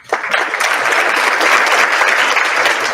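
An awards ceremony audience claps in a loud, sustained burst of applause that builds fast and holds steady, with no speech over it.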